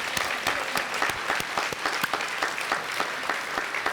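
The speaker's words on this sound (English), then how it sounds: "let's give them another round of applause" Steady audience applause at a Teacher of the Year ceremony, a dense patter of many hands clapping close by with sharp individual claps standing out, continuing without talk.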